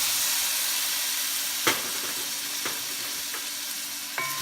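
Pork frying in a pan with onions for corn soup, a steady close sizzle with a few sharp stirring clinks and scrapes, no voices.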